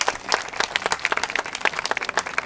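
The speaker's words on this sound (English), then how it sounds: "Applause is appropriate for the Queen." Applause for the Queen at a Renaissance fair archery show, a brisk crowd of clapping hands with sharp irregular claps running throughout, fairly close and steady with no talk.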